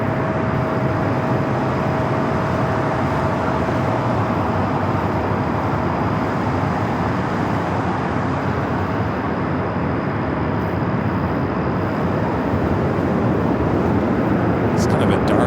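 A jet airliner, an Alaska Airlines special livery, roars steadily at close range at LAX airport at night, with a continuous dense engine rumble and a faint high whine throughout.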